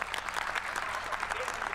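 AfD members applaud in the German Bundestag, a dense steady clapping from a crowd of parliamentarians, fairly faint and continuous.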